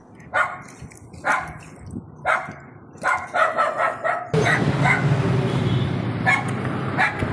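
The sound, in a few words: dog barking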